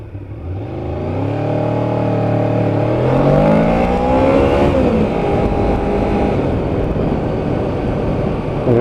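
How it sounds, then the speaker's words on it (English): The V4 engine of a 1989 Honda VFR750F motorcycle revs up close and loud, its growling pitch climbing through the gears, then settling into a steady roar. "The engine has just got the most incredible V4 growl to it."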